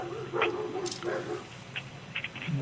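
Dogs giving a few short yips and whimpery barks in a room, moderately close, mixed with faint background voices.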